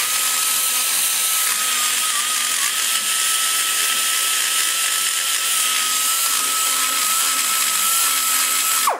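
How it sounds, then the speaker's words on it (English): A long carbide burr on a high-speed die grinder steadily grinds the aluminum intake port of a big-block Chevy cylinder head, a loud, sustained high-pitched whine held at nearly even pitch with small dips, cutting off at the end. "I switched to my long burr, and I just basically use this to take the rough cuts"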